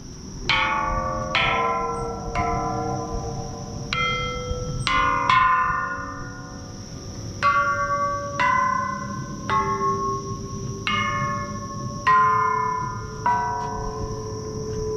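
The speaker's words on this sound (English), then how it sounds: "Let's ring the bell." Temple bells rung one after another at the Frog Temple atop Nakhon Sawan, Thailand, about a dozen clear metallic strikes each leaving a long ringing decay, close and loud over steady outdoor background noise.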